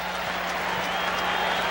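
Baseball stadium crowd at a playoff game, a loud continuous roar of voices directed at a batter, dense and sustained throughout.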